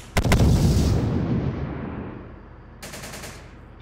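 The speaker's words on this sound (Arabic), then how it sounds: "عم يضربوا علينا رصاص كثير." Gunfire in the war game Syrian Warfare: a sharp burst of rapid shots opens, then a long rumbling decay, followed later by another quick rattling volley, loud and close with no talk.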